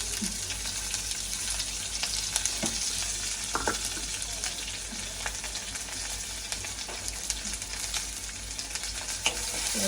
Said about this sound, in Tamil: நல்லா வதக்கிடுவோம். இது வந்து கொஞ்சம் வதங்கி வரட்டும்.